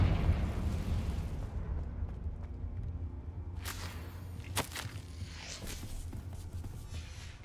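A Confringo spell in a video game sets off a few short, sharp explosive blasts spaced a second or so apart over a quiet, rumbling background.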